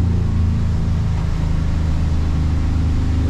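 A Hewescraft boat with a Yamaha-style F150 outboard planing at speed on the water, its engine a steady, loud low drone with continuous rumble throughout, no voices.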